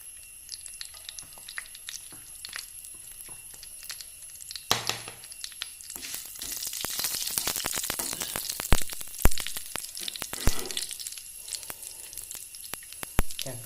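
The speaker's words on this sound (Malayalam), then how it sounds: "എണ്ണ ചൂടായി നമുക്ക് ഈ കടുക് ഇതിലേക്ക് ചേർത്ത് കൊടുക്കാം." Mustard seeds and dried chillies hit hot oil for jackfruit seed upma, starting as light scattered crackles and swelling into a dense, loud sizzle full of sharp pops.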